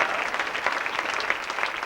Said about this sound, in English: give a round of applause for these great volunteers